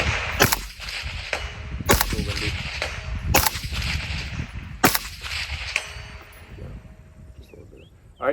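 A suppressed rifle fitted in turn with Sandman and Sierra suppressors fires several sharp, rapid shots outdoors, each a loud muffled crack with a short ringing tail, spaced about a second apart.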